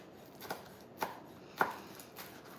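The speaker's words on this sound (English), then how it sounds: "And then just chop quickly." Knife chopping vegetables on a cutting board for a vegan quinoa tabbouleh salad, a handful of sharp, separate chops spaced about half a second apart, close and clear over faint room noise.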